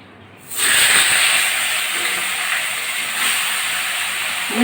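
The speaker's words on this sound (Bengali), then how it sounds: "এখন মাছের মাথাগুলো ভেজে নেব" A sudden loud sizzle bursts in after a brief quiet moment, then settles into a steady hissing crackle of tilapia fish heads frying in hot oil.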